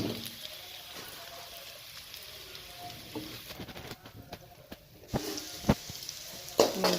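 Red onions and garlic fry in hot oil, giving a steady low sizzle with faint crackle, and louder spits and pops arrive toward the end.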